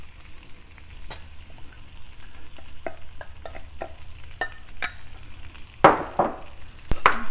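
Diced onions frying in melted butter over medium-high heat sizzle close up, with repeated scrapes and stirring clatters from a utensil against the pan and the clatter building toward the end.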